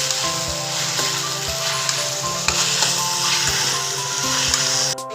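Chopped tomato and browned onion sizzle steadily in a hot pan while egg bhurji is made, a continuous close frying hiss with a low background hum and faint scraping stirs.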